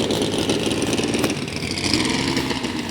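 A J Dragster Automatic class dragster with a 6-cylinder Chevrolet engine at an NHRA Division 3 drag race at Beech Bend Raceway, heard as a continuous droning engine note under steady ambient noise.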